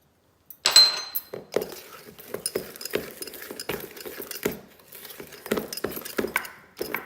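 A teaspoon clinks and taps against a bowl while baking powder is added, a string of light, irregular metallic knocks and scrapes heard up close with no voices.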